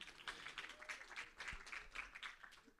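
A conference audience claps for a speaker in continuous, even applause that is quite faint and distant, spread across the hall.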